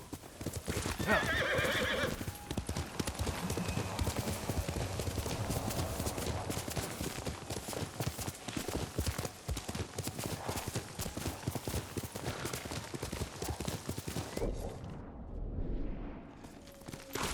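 Nobu the horse in Ghost of Tsushima gallops with dense, rapid hoofbeats throughout and neighs loudly near the start, close and prominent, with a brief lull near the end.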